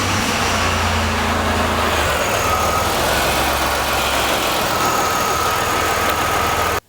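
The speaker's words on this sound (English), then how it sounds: "we're going to start the engine and just do a quick check for leaks" A car engine idles steadily and loudly up close, a constant rumbling drone that cuts off abruptly at the end.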